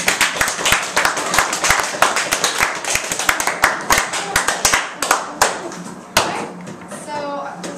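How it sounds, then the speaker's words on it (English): A school class claps for a student group presenting a Shakespeare Twelfth Night scene, with dense, sharp handclaps that thin out toward the end as a voice begins to speak. "Let's give them a round of applause."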